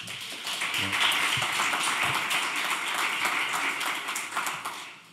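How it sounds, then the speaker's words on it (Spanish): An audience at an education conference in Madrid applauds steadily for about five seconds, a dense, even wash of many hands clapping at once that tapers off only slightly at the end. "Así que, por favor, un aplauso para Alfonso."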